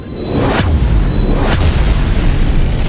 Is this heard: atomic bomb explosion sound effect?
yes